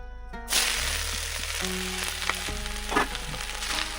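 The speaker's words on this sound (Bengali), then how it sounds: "দিয়ে এবার সবজিগুলো সব ঢেলে দেবো।" Vegetables tipped into hot oil in a kadai burst into a loud, close sizzle that settles into steady frying, with a few stirring scrapes and no talking.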